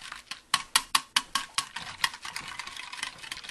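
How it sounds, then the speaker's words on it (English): Fork or whisk beating an egg mixture with about two teaspoons of vanilla in a bowl for French toast: a run of quick, sharp clinking taps against the bowl, loud and distinct at first, then settling into a faster, softer patter. "And then you're going to whisk it together."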